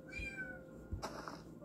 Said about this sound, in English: And just like that, the Griffins have a cat